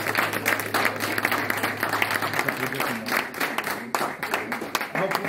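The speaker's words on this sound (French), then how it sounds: "On peut les applaudir." A crowd at a tennis club's Christmas tournament ceremony claps steadily, loud sharp hand claps running throughout while voices murmur beneath.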